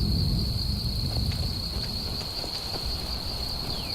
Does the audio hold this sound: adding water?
no